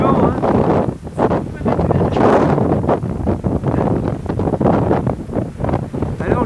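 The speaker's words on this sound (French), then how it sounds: "Aujourd'hui, il y a du vent" Strong wind blows across an open Argentine landscape, roaring and gusting against the microphone in steady, uneven surges throughout.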